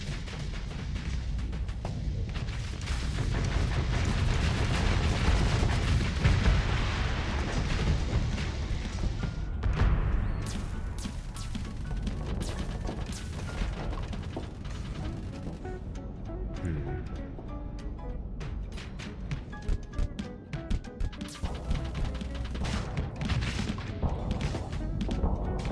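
Swarm missile explosions in the space combat game Starsector, a dense barrage of booms and crashes rolling together, then sharper scattered impacts and thuds over a continuous low rumble.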